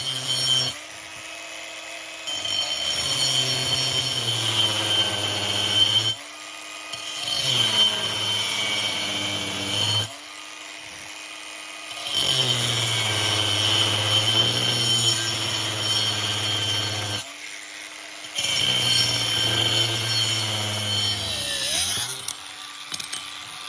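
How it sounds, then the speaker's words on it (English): An angle grinder cuts two collars from steel pipe for dock bracing, in about five long, loud, whining passes separated by short pauses, with the pitch shifting under load. "Here I'm using my grinder to cut 2 collars to slip over the"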